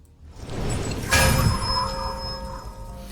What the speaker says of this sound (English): So this is a festive themed impact sound.